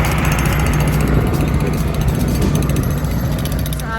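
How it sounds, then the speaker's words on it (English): A jackhammer pounds through hard rock while a foundation trench is dug, making a loud, continuous, dense rattling that runs without a break the whole time. "using that jackhammer"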